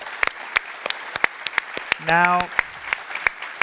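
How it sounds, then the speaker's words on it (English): Sparse, scattered claps from an audience at a technology industry event, a dozen or so separate hand claps spread evenly, with a single short spoken word partway through. "Ladies and gentlemen, a big round of applause for Markus."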